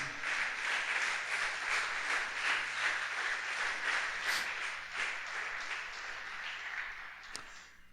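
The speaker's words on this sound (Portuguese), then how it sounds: "Você pode aplaudir o Senhor Jesus por isso?" Church congregation applauding steadily during a sermon, a dense wash of clapping that holds for several seconds and slowly thins toward the end.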